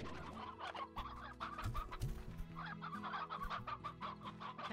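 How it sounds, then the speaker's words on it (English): Hens clucking in the Slime Rancher video game, several overlapping farmyard chicken calls in a steady, busy chatter with a brief low-pitched swoop midway through. "That's all my hen hens."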